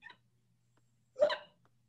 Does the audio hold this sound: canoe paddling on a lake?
no